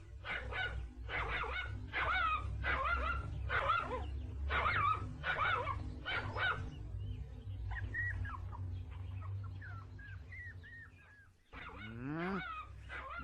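A dog in a Kurdish-dubbed cartoon, Bill and Sebastian, barks about a dozen times in a quick, steady string, then gives softer yips and whines over a constant low background hum.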